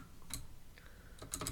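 Keys tapped on a computer keyboard, a few soft, close clicks in small bursts against quiet room tone.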